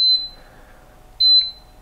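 Polaris PUH 194 ultrasonic humidifier with ionizer beeping as the ionizer is switched on: two short, clear electronic beeps about a second apart, close and alone in a quiet room.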